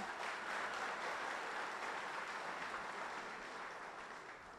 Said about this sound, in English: Round of applause for Niue.